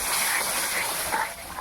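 Spice paste of Kashmiri chili powder and turmeric sizzles in hot oil after a splash of water, cooking down for a prawn curry; a steady, bright hiss with no voices.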